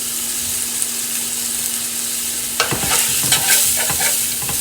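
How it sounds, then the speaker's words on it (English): Sausage fries in a pan, sizzling steadily, then a spoon stirs fennel seeds through it, adding scraping, clattering movement over the constant sizzle with no one talking. "I'm going to mix these fennel seeds into the sausage more"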